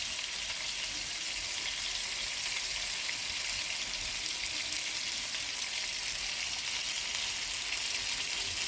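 Lamb chops sear in a hot pan with a loud, steady, hissing sizzle that holds evenly throughout, close up and with no voices.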